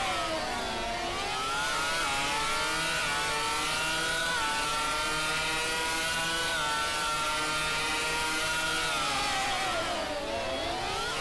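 Racing cars from a video game drag race down the front straightaway: loud, sustained engine whine that climbs steadily in pitch, holds high, then drops and rises again near the end, with no voices.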